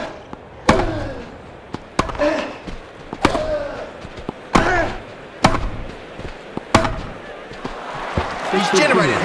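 Tennis rally in Grand Slam Tennis 2 on PS3 with a forehand: a string of crisp racket hits lands roughly every second and a half, each sharp and close, with commentary and game ambience between them.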